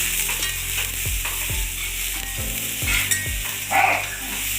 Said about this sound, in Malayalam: രണ്ടേ രണ്ട് മിനിറ്റ് മാത്രമാണ് കാന്താരി മുളക് ഇട്ട് ഇളക്കാൻ പാടുള്ളൂ